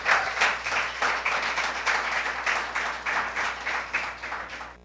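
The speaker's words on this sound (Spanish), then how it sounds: "¿qué tal si damos un fuerte aplauso a todos estos servidores de esas áreas?" An audience at a church preaching academy session claps along together, a dense steady patter of many hands with faint rhythmic pulses, moderately close and sustained without voices.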